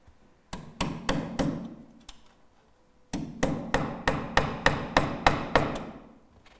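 Tacks and small clips are hammered into roof battens: two close bursts of sharp, evenly spaced hammer blows, about six then eleven strikes, separated by a quiet pause.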